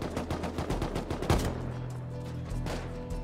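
Rapid gunfire during an online raid in the survival game Rust, a dense burst of repeated shots in the first second and a half, then sparser, quieter shooting over a steady background hum.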